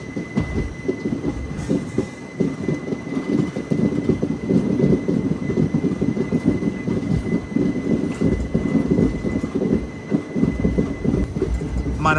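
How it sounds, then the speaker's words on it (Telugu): A train hauled by a WAP-4 electric locomotive runs past on the adjacent track near Tirupati, a loud, sustained rumble and rattle of wheels with a faint steady whine running through it, and no speech. "అటు సైడ్ నుంచి ఒక బండి వచ్చేస్తుంది వ్యాప్ 4 లోకోమోటివ్తో"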